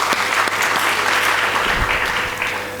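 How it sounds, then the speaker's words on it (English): An audience at a women in film awards ceremony applauds Dr. Susan, a dense, steady round of clapping that fills the room and tapers slightly toward the end. "she deserves an applause from us"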